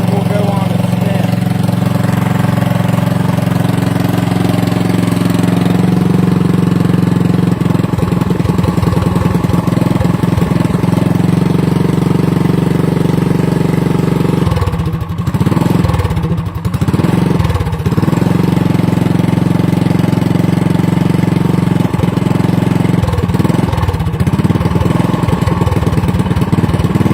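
Predator 212 go-kart engine idling on choke while warming up, a steady loud low-pitched chug running continuously with small wavering in rhythm, close to the listener.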